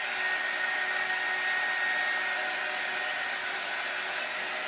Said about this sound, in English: air, my heating gun. I can see it drying right in front of my eyes.